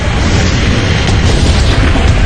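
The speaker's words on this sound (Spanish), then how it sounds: "Pero la explosión inicial no era una llama tiznada ni grande, era de color azul." An explosion on a North Sea oil platform roars as a loud, dense broadband blast that stays thick and sustained for the whole stretch, with no voices.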